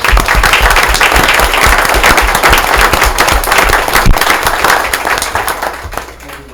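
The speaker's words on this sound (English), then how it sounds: "I think that deserves a round of applause." A room full of people at a village board meeting breaks into loud, close applause, dense hand claps with individual sharp hits standing out, gradually thinning toward the end.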